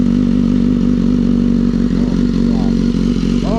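A BMW S1000RR sport motorcycle idles steadily and loudly nearby, its warm engine holding a constant, even drone throughout with faint light clatter over it.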